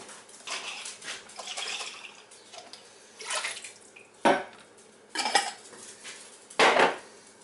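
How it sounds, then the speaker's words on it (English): Water sloshes and splashes inside an emptied diced-tomato can in a home kitchen, with several short clattering bursts of metal and splashing spread over the span, no talking. "Gonna have to add a little bit of water, put some water in this to rinse this out."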